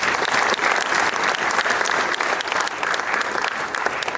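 An audience at an alumni lecture applauds, dense sustained clapping from many hands filling the room evenly from start to finish.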